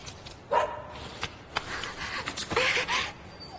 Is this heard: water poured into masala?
no